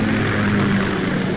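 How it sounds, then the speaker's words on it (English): Steady droning hum of a Ka-60 Kasatka helicopter in Metal Gear Solid 2, with a low engine tone running continuously and evenly throughout, heard alone at moderate loudness. "Kamoff chopper, right?"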